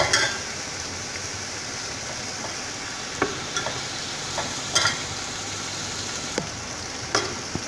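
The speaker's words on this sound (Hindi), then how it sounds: "ये इसकी 2 से 3 मिनट भुनाई हो चुकी है अदरक लहसुन पेस्ट के साथ" Meat sautéing in a pot with ginger-garlic paste for nalli nihari, a steady close sizzle with several sharp spoon scrapes and clinks from stirring, no voices.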